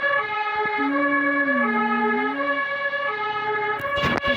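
A fire truck siren in the Roblox video game wails as a steady, loud electronic tone with a slowly wavering pitch, then breaks off into a brief noisy burst at the end.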